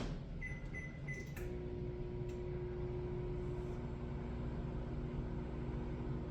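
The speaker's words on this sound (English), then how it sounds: "I'm going to put this back in the microwave for a few seconds." A steady low hum of a microwave oven running, preceded by a few short beeps, with no talking.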